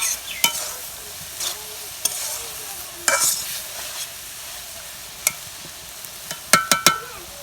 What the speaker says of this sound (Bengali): আলু দিয়ে পেঁয়াজ দিয়ে এই চাইফলা মাছগুলো চরচড়ি করুম